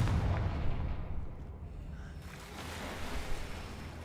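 A Confringo fire spell goes off in the Hogwarts Legacy video game, a heavy booming blast with a rushing, surf-like roar that fades and then swells again, loud and with no talking.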